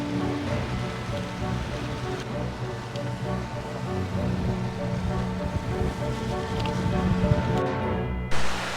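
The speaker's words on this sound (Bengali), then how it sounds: "এই যে এই জলটা সোজা নিচে গিয়ে পড়ছে" Water from a monsoon waterfall at Lonavala plunging into a deep gorge makes a steady loud rushing roar, with rain and gusting wind blended into the constant wash.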